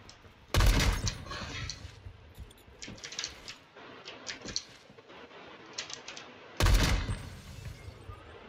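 M-107 rifle gunshots in a Roblox video game: two loud, heavy booms several seconds apart, each with a long decaying tail. Smaller clicks and taps fill the gap between them.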